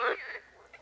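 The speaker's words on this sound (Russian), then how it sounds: "жабы" Toads croak at a small swampy lake near a fishing spot: one loud, nasal close call, then a fainter trailing croak and a brief distant one, all over a quiet outdoor background.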